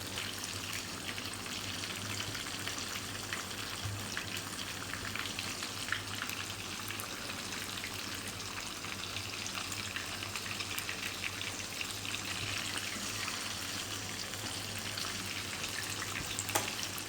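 Fish frying in oil over medium-low flame makes a continuous, even sizzle, soft and steady like light rain, with occasional faint pops and no talking.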